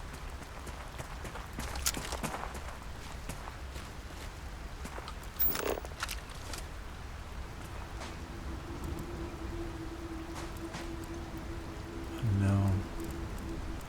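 Rain falling in the video game Starfield, a soft continuous patter of drops on surfaces with scattered louder taps, a brief steady hum partway through, and a short spoken word near the end.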